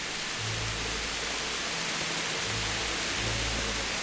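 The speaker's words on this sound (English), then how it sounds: "Wow, that rain's noisy." Steady, dense hiss of heavy rain falling in the medieval video game Kingdom Come: Deliverance, an even wash of noise with faint low tones beneath.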